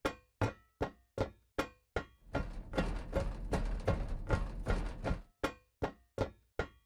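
Footsteps on solid metal: sharp, ringing clanks in an even rhythm. A burst of dense, rapid clattering steps sits in the middle, and the steady single strikes return at the end, close and loud with no voices.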